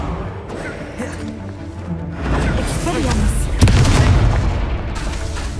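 A fire spell blast from the Hogwarts Legacy video game bursts out with a booming, thudding impact about midway through, set against dense game sound and voices.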